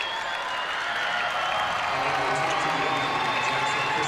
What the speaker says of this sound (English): That's a well-deserved round of applause for those young men.